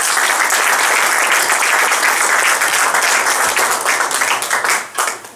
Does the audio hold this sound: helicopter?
no